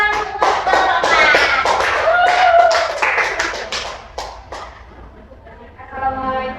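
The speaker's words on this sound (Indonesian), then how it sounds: "Beri tepuk tangan untuk kelompok 4." Classroom applause from students welcoming presenting group 4 in a microteaching lesson: scattered hand claps mixed with chatter, fading after a few seconds as the group begins, with voices over it.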